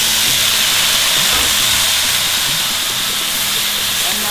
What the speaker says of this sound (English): the onions are fried now, so now we have to add the tomatoes